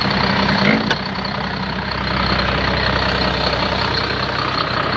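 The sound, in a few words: 1989 tractor engine idling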